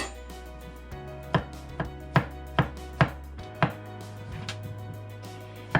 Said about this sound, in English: we are going to slice up the mushrooms